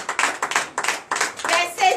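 A church congregation at a Friday night deliverance and prophecy service claps in bursts, several rhythmic rounds of hand claps close and loud, with a brief faint voice near the end.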